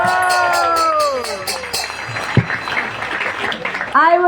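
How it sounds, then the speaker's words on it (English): A theatre audience applauds after a play, a rolling burst of clapping and crowd noise under and after a speaking voice. "Let's give them another huge round of applause."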